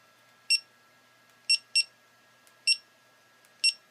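Short electronic beeps from a GoPro Hero 3 White Edition action camera sound at irregular intervals, single and double chirps, clear and close against a quiet background hum.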